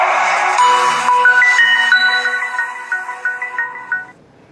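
The Samsung Galaxy Note's ringtone plays loud and close, a bright, plucked melody of rising and falling notes that fades out after about four seconds.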